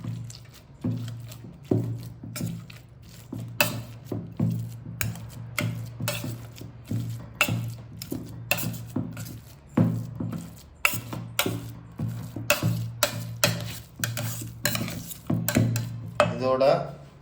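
Boiled potatoes, mushrooms and peas are mashed in a vessel with repeated soft squishing presses and utensil knocks, in an irregular steady rhythm, close and moderately loud.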